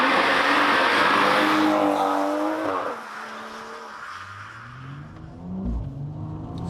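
Tuned 600bhp BMW M135i engine accelerating hard, a loud rising rasp with climbing tones that drops back after a gear change and then builds again, heard from inside the car.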